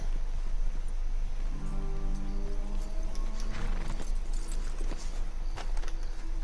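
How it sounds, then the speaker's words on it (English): Horses from Red Dead Redemption 2 walk with clear, close clip-clop hoofbeats in an irregular rhythm, accompanied by tack jingling and a brief whinny-like tone partway through. "Let's leave the horses off the road to the right here."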